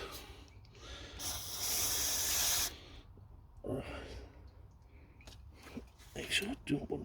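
Aerosol spray bursts hiss out in short and longer blasts onto a greasy engine part of a diesel P38 Range Rover, close up, with quiet handling noises between them.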